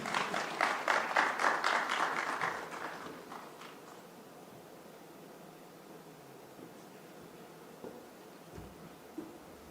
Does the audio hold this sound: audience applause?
yes